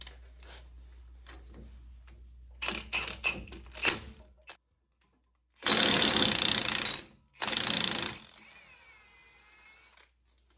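An impact wrench drives wheel lug nuts on custom forged wheels in two loud, close, rattling bursts of about a second each, after quieter clicks and handling noises.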